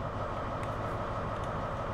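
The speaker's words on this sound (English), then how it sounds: "Look how big this train is, guys." Bakerloo line train in the video game Train Sim World 2, a steady broadband rumble of rolling stock with faint clicks, continuous and fairly loud throughout.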